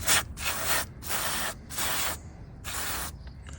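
White lithium grease sprays from an aerosol can in four close, loud bursts of hissing, each about half a second long, with short gaps between them.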